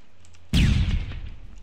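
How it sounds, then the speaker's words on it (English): A flashbang grenade in PlayerUnknown's Battlegrounds detonates with one sudden, loud, broadband bang after a short quiet lead-in, then leaves a long, rough, ringing decay that fades slowly. "Flashbang. I'm throwing it in!"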